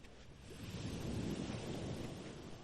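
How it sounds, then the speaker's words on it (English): Soft ocean surf swells and rushes in a low, continuous wash, faint and distant-sounding, with no voices. "Can you hear the waves?"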